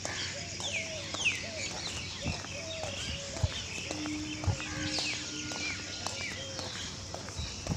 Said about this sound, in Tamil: ரோடு ஃபுல்லாக மைனாக கூட்டம் கூட்டம் அங்கே பாருங்கள்